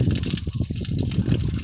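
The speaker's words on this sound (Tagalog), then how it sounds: "may libreng pakanal pa ng tubig papunta sa Pilapi" Water gushes and splashes steadily through an irrigation canal, a continuous near rushing flow throughout with no voices.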